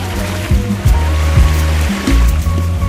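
Sea waves wash in a steady, full rush of water noise that stays loud throughout, with some low tonal sound layered beneath the surf.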